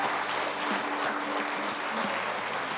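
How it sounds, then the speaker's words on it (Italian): An audience applauds the driver of the Val d'Aveto football team with a short burst of steady, moderately loud clapping, and a faint tonal hum sits underneath. "mi hanno detto di fare un grossissimo applauso a Claudio, che è l'autista della Val d'Aveto Calcio"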